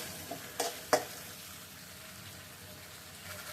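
Curry frying in oil in a wok as the oil separates, a low steady sizzle with two sharp stirring clanks early on, heard alone without talk.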